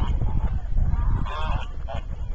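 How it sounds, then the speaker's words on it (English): Geese honking on a farm, several loud nasal honks close by, clustered in the second half over low background rumble and handling noise. "Careful, they bite. It's a goose."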